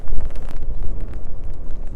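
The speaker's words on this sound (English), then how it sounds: "Oh, the wind, jeez, oh. It keeps blowing down." Strong wind blows steadily outdoors on a muddy hillside path, a loud continuous low roar buffeting the microphone in gusts, with no voices.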